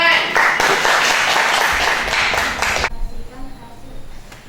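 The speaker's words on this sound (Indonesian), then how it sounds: "Ya, tepuk tangan." A classroom group claps loudly and continuously for almost three seconds, then the applause stops abruptly, leaving faint room sounds and brief murmurs.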